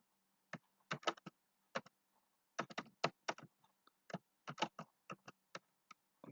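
Code being typed on a computer keyboard, irregular bursts of crisp close key clicks in quick clusters separated by short pauses, with no talking.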